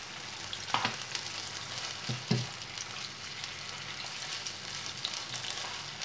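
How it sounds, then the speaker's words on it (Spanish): Onion fries in a pan as a base for blood-sausage lasagna, a soft continuous sizzle broken by a few clinks and scrapes of stirring around the middle. "Pues ya está la cebollita frita"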